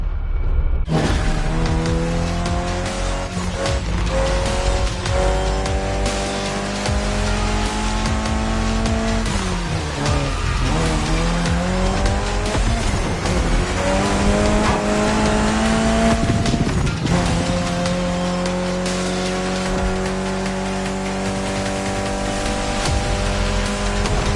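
Race cars in The Crew Motorfest racing game, loud engines revving through gear shifts with rising and falling pitch, tire squeal and skidding, continuous and close throughout.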